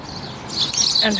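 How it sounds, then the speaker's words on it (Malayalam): Short, high chirps from sparrows, close by, a quick burst of bright tweets over a faint background hiss while drumstick flowers are picked. "ഓ, നിറയെ കുരുവി ഉണ്ട് കേട്ടോ."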